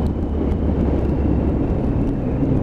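A Triumph Tiger 1050 motorcycle on a road test ride, its engine a loud, steady low drone under heavy rushing wind across the microphone, close and continuous.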